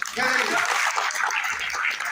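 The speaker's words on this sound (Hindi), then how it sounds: "एक बार जोरदार तालियां।" An audience breaks into loud, sustained applause at a Magahi-language entertainment show. Steady clapping runs throughout, with a voice or music audible near the start.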